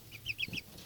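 Hens, among them Coucou de Flandres, cluck beside a small red rooster in a backyard coop, a quick run of four or five soft clucks up close, alone without talk.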